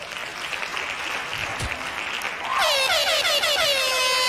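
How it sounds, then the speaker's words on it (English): Hand claps and cheering on a comedy podcast, a dense steady patter of applause, then blaring horn-like sound effects layered over the clapping for the last couple of seconds. "Hand claps to him."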